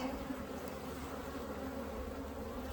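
European honey bees swarm and buzz steadily around an open hive as frames are lifted during an inspection. The drone is dense and continuous and stays close throughout, with no talking.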